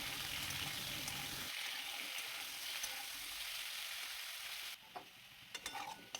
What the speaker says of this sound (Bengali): এবার আলুগুলো আমি হালকা লাল লাল করে ভেজে নেব।